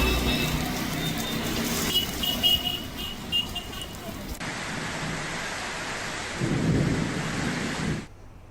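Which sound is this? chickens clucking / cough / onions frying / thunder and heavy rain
thunder and heavy rain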